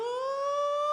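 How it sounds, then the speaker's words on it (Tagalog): An ambulance siren sounds as one steady, loud tone that climbs slightly in pitch over a brief second, heard alone. "Ambulansya na katong."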